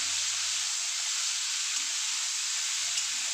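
Constant, even sizzling of grated onion frying in hot oil, close by, with a faint low hum underneath and no talking.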